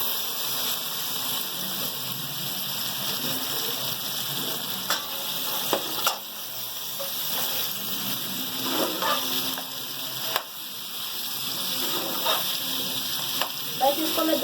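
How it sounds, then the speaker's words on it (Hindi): Potato pieces frying in a masala spice mix in a pan, about a kilogram of them. The sizzle stays broad and steady at close range, with a few louder crackles and stirring scrapes breaking through. "बस इसको मैं 2 मिनट जो है ना भूनूंगी इस मसाले के साथ।"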